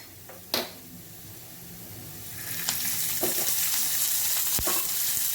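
Chopped onion frying in hot oil for a spicy Maharashtrian masala, a steady loud sizzle that builds after the onion drops in, with a few sharp clicks of a spoon against the pan and no talking.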